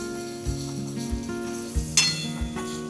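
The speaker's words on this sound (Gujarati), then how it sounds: "આવી રીતના આપણે હલાવતું રહેવાનું." Raw mango pieces stirred in a pan, frying with a steady sizzle and scraping strokes of a spoon, one brighter metallic clink near the end, close and clear with no talking.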